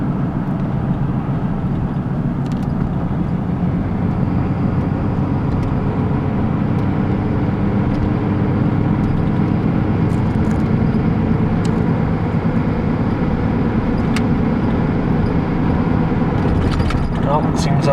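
A Chevy S10 pickup truck with a bucking fault, recorded from inside while driving, slowing to about 35 and picking back up: a steady, loud engine and road drone throughout, with no clear change in pitch.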